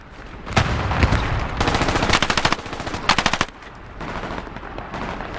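Rapid automatic gunfire in a video game battle, with several loud sustained bursts of machine-gun fire close by, separated by brief pauses and followed by quieter rattling.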